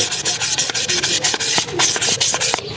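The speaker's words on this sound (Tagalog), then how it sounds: "kailangan na natin ng liha ng 1000 grit" Rapid back-and-forth sanding strokes of 1000-grit sandpaper on a Burgman Street scooter's noisy rear brake lining, a steady rhythmic scratching, close and loud, with no talking.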